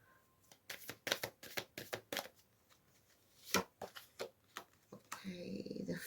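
Tarot cards are shuffled and drawn by hand: a quick run of sharp, papery flicks and slaps, followed after a short pause by a longer riffling, soft shuffle near the end.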